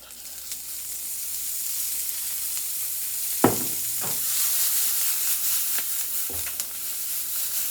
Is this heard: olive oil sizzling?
yes